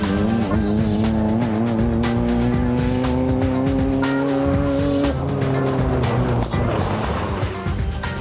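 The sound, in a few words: Volkswagen Baja Bugs racing in an off-road race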